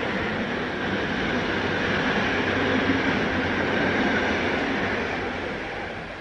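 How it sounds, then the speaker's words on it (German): A train rolls into a station, a steady mid-distance rumble of wheels and carriages that holds evenly and then eases slightly as it slows. "jetzt kommt der Zug sofort her"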